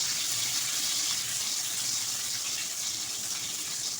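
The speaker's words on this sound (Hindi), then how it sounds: "तेल में अंडे फ्राई होना स्टार्ट हो गए हैं" Eggs frying in hot oil in a saucepan, a steady close hiss and crackle of sizzling that holds evenly throughout with no voices.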